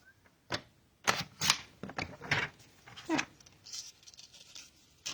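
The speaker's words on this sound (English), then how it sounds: "we're going to cut this down so it's 1 inch" Paper trimmer slicing card stock down to a one-inch strip for an Easter card, heard as a few close, crisp cutting clicks and slides in short bursts with quiet gaps between.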